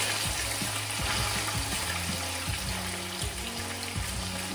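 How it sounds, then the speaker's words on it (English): Fish fries in a large pot for Jamaican brown stew fish, giving a steady close sizzle and bubbling crackle with faint scattered pops throughout, no voices. "you have to fry. Want to make sure it's golden brown on both sides."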